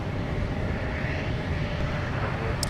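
Delta jet landing on runway 12 right at Minneapolis Airport, a continuous dense engine roar at steady loudness throughout the short stretch, no voices.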